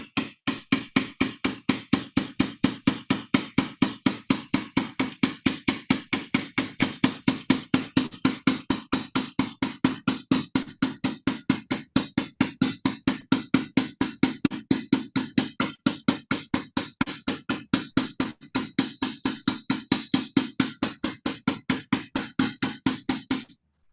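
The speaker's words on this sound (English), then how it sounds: "this is where your larger hammer like this can work" A large hammer strikes sheet metal during fold forming, delivering a long, steady run of evenly spaced metallic blows, loud and close, with no talk.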